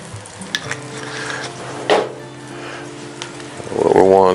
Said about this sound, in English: let that come back up to a boil and slowly stir it